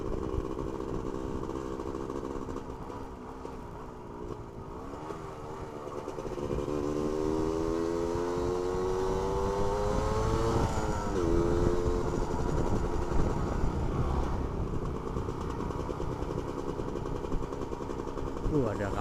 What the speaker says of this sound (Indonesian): Ya, sambil manasin mesin,